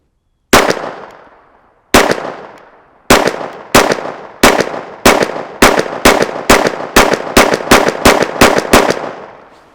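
A KelTec P17 pistol fires CCI Uppercut .22lr rounds, about fifteen loud, sharp, close cracks, each with a ringing decay. The first few shots are spaced out, then the rest come in a quicker, even string, with no talking.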